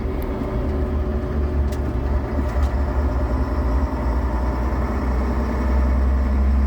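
A TGB 30/40 terrain vehicle driving in mechanical gear 2 at about 1400 RPM, its engine giving a loud, steady low drone throughout, no voices.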